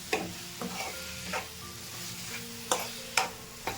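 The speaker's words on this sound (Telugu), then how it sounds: "కాకరకాయ ముక్కలకి బాగా కారం అంతా పట్టేంత వరకు బాగా మిక్స్ చేసుకోవాలి" Bitter gourd pieces stirred with chili powder and spices in a pan, a spoon scraping in several distinct strokes over a faint sizzle, no voices.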